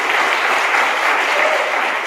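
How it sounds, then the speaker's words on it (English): Audience applause at an evening concert, dense continuous clapping from many hands, loud and even throughout. "can we give a round of applause to Terry?"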